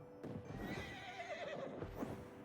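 A horse in a cozy life-sim game gives a loud, close whinny that wavers down in pitch, with soft hooves clopping beneath it and no voices.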